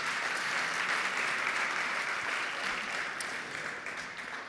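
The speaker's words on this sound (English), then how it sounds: "Please, a big round of applause for Kat coming up to the stage." An audience at an awards event claps in a dense, sustained wash of applause as a speaker comes up to the stage, fading slightly toward the end.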